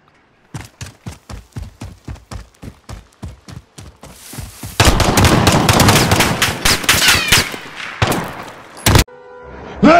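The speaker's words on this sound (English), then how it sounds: "shotguns." Shotguns fire in Modern Warfare gameplay, opening with a rapid, evenly spaced run of sharp close shots, then a dense, loud stretch of overlapping blasts and explosions, ending in a few final heavy booms.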